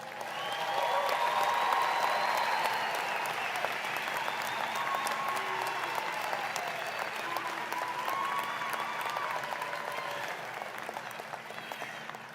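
An audience applauds graduates at a December graduation ceremony, a steady, dense wash of clapping from a large crowd that stays even for the whole stretch with faint cheering mixed in.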